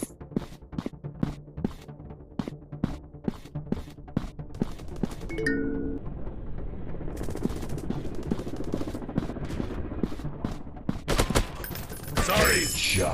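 Rapid gunfire from a Counter-Strike-style first-person shooter game, sharp repeated shots in bursts over a steady game soundscape, with a brief tonal chime midway and a louder chaotic flurry near the end.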